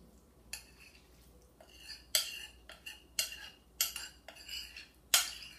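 Several short clattering bursts as pieces of diced mango are tossed into a bowl, each landing with a light, clinking rattle, separated by brief pauses.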